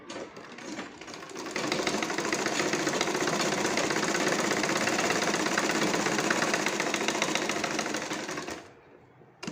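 Close, loud sewing machine stitching a ribbon sleeve design, a dense continuous mechanical rattle that holds steady for about seven seconds before stopping abruptly.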